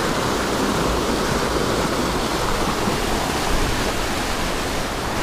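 A small mountain creek with golden trout, its water rushing loud and steady and close at hand, a continuous even wash of sound with no voices.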